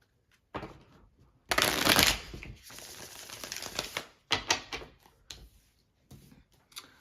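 Tarot cards are shuffled in several separate bursts of crisp riffling and flapping, with brief pauses between them, close up in a quiet room.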